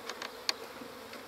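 Honey bees near a swarm buzz in brief, close passes, a few short whines over a soft steady hum, with no talk.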